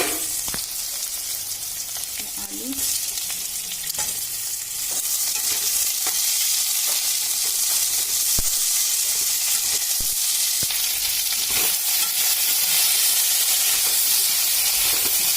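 Crushed garlic and ginger with potatoes, turmeric and salt fry in a pan, a loud continuous sizzle and hiss with repeated stirring scrapes and clacks of the spoon throughout.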